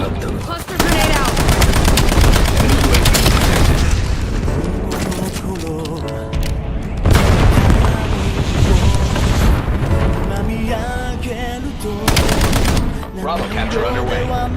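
Loud, dense gunfire and booming cluster grenade explosions fill a multiplayer first-person shooter match, with rapid bursts and heavy blasts layered almost continuously, plus game voice callouts.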